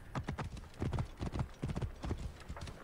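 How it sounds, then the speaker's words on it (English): Horse hooves in the video game Assassin's Creed Origins, a steady, fairly quiet clip-clop of a trotting horse with evenly spaced strikes throughout, heard alone without talk. "After my horse stops being a jackass!"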